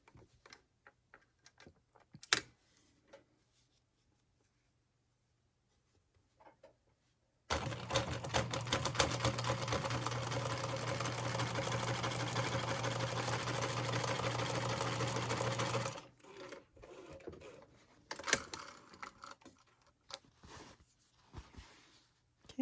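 Close and loud, a sewing machine hums steadily for about eight seconds while joining quilt quadrants with a seam sewn from the center outward; scattered clicks and fabric handling come before and after the run.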